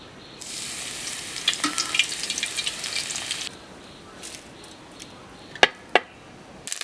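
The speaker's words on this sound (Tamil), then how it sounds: "தட்டின பூண்டை எண்ணெயில் பொரித்து எடுத்துக்கலாம்." Crushed garlic fried in hot oil for a crispy banana mixture snack: a bright, loud sizzle for about three seconds, then quieter bubbling oil with a couple of sharp pops or clatters near the end.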